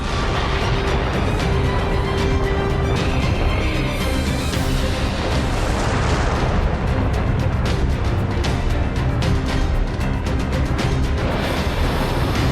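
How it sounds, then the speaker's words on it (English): Missile launch and blast in NieR: Automata, a loud, dense roar of rushing noise and rumble that swells and bursts with crackling impacts throughout, with no talk over it. "Missile controls engaged. Launch ability confirmed. Fire!"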